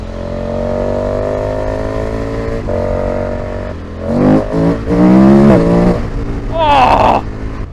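A 2021-on KTM Super Adventure S motorcycle fitted with a DNA air box is ridden on an open road, its engine loud and close. It drones steadily, then revs up and down in sharp surges through gear changes.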